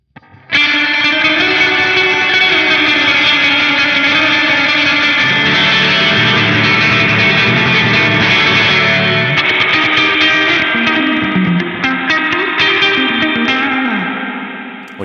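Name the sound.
guitar through Fractal AX8 reverb at high mix, surf style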